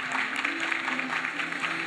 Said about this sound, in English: let's give a warm round of applause as we bid her farewell